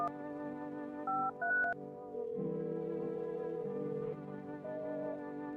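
Telephone dialing in the video game No, I'm Not A Human: several short keypad tones, then a longer sustained ringing tone with stepped pitch changes, clean and prominent with no talk.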